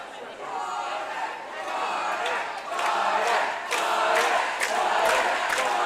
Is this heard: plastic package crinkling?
no